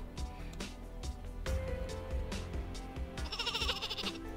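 Sheep bleat in the Worms video game, a loud wavering baa over busy game music with a thumping beat, and a higher chirpy effect near the end.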